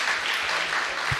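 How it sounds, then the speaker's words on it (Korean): Brief burst of audience clapping from children and adults gathered for a Sunday church service, steady and dense for about a second with no talking. "박수!"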